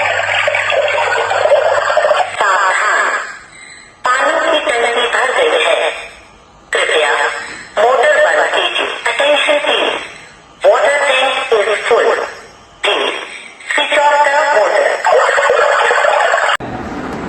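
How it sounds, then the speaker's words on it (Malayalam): A water tank overflow alarm sounds a loud buzzer-like tone in repeated bursts of about two seconds with short gaps, and a recorded voice announcement accompanies it. "അപ്പൊ അതവിടെ തൊട്ടാ നിങ്ങൾക്ക് അലാറടീനെ കേൾക്കാം"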